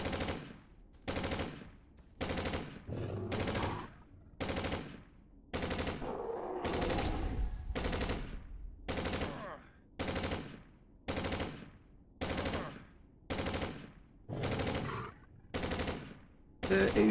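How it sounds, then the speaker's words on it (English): A weapon fires in the video game Entropia Universe, sustained bursts of rapid automatic fire repeating in a regular on-off rhythm about once a second, loud and close, with occasional talk faintly underneath. "Best sounding weapon in the game."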